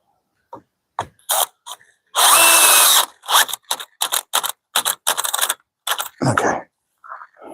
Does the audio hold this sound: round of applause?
no